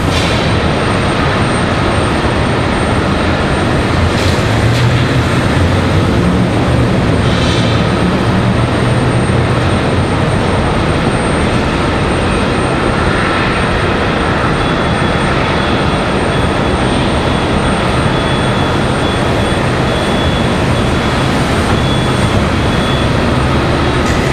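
An ATR turboprop comes in to land at stormy Raleigh-Durham airport with a loud, continuous broadband roar and a droning engine tone, steady throughout with no talk.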